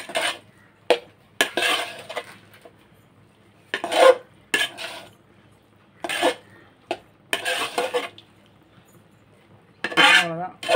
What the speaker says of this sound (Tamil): நம்ம இப்போ சாப்பாடு போட்டுடலாம். போட்டு நல்லா கிண்டி விட்டுடலாம்.